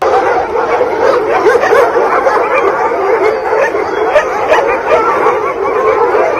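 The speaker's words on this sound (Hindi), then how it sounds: "अरे भौंकने की आवाज आ रही है यार कमेंट सेक्शन में" A dog barks and yips loudly and continuously, mixing in whimpering and howl-like cries, close and dense throughout with no pauses.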